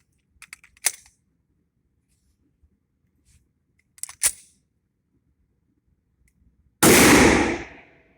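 A Smith & Wesson M&P pistol in .357 SIG fires self-defense ammo: one loud, sharp shot near the end follows a long, mostly quiet stretch with a couple of faint clicks.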